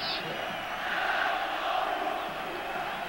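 A Yugoslav football crowd in a stadium during a Yugoslavia versus England match, a broad distant roar of many voices swelling and easing, with a faint commentator-like voice mixed in.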